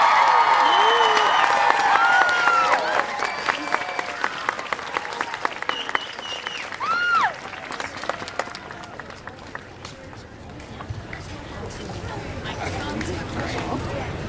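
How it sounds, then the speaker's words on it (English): An indoor audience at an author event cheers and applauds, a burst of loud clapping and whoops that tapers into scattered claps and crowd chatter. "So let's give a cheer for the man who wrote this."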